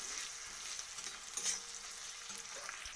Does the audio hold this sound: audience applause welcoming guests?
no